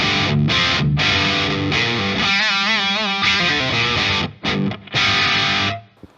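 Electric guitar played through an Anasounds Ego Driver modular overdrive pedal with the rear clipping setting, giving loud, thick distorted chords and sustained notes with a short bend, stopping briefly near the end before ringing out and cutting off.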